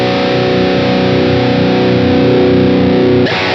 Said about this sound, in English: So let's put that precision drive on and try the different cabs.